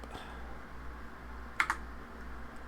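Two quick close key presses on a computer keyboard during an Elden Ring game session on Fedora, a short double click over a quiet steady hum.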